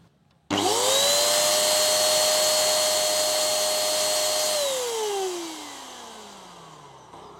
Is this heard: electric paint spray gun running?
yes